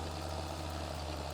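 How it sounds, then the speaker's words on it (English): A tractor in a farming video game runs at a steady, even drone with a low hum and no change in pace, heard alone. "So let's turn around our tractor."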